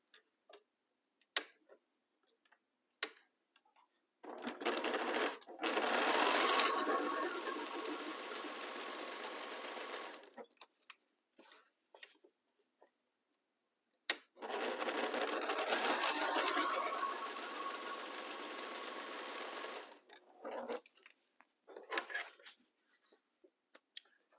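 A sewing machine stitches fabric in two sustained runs of rapid mechanical whirring, each several seconds long, separated by quiet gaps with scattered small clicks and handling sounds.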